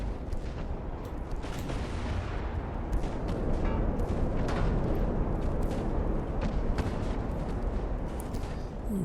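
Eight-inch naval guns firing in Ultimate Admiral: Dreadnoughts, a continuous rumbling barrage of heavy booms and blasts layered over a low roar, fairly loud throughout.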